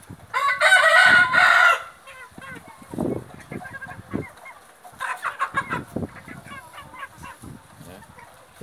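A giant rooster with an injured leg crows loudly once up close, followed by softer clucking and scattered poultry calls from the flock nearby.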